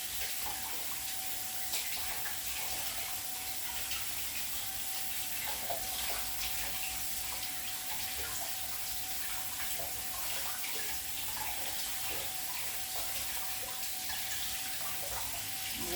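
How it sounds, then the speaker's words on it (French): Hands being washed under a running kitchen tap while baking shortbread biscuits, a steady, even hiss of flowing water from start to finish, fairly quiet and with no voices. "Je me lave les mains."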